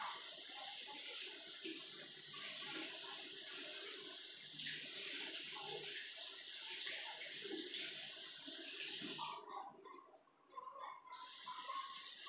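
Water runs steadily to rinse a newly installed urinal, a close, continuous splashing flow that briefly falters and sputters near the end.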